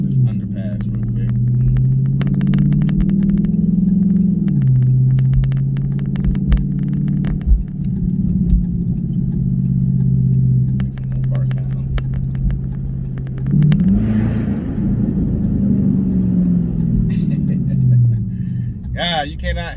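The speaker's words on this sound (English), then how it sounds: "rev your car up just to get that sound vibrating off the underpass" A Dodge Charger Hemi engine with an 87mm throttle body rumbles deep and loud under an underpass, rising and falling as it revs, the low drone echoing heavily off the enclosed passage.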